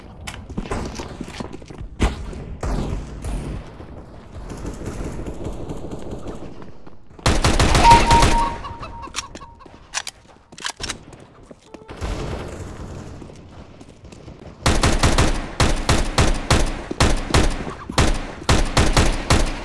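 Gunfire in the video game CS:GO, with scattered single shots, a dense burst in the middle and rapid automatic fire toward the end, loud and close.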